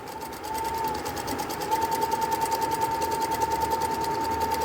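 Sewing machine stitching dori piping, a fast steady mechanical rattle of the needle running continuously at close range, with a tone humming beneath it and no talking.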